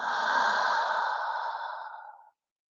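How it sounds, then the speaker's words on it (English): A long, steady exhale pushed out through the mouth during a yoga breathing exercise, a soft breathy rush lasting about two seconds that tapers away to silence, close and alone. "And exhale out through the mouth."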